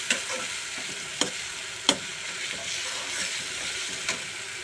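Sliced nol tenga, dried chillies and fenugreek seeds stir-fried in hot oil, crackling with an even close sizzle and a few sharp spatula scrapes against the pan.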